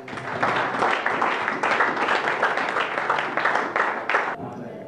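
Church congregation applauding, a steady stretch of clapping from many hands that holds for several seconds before trailing off near the end.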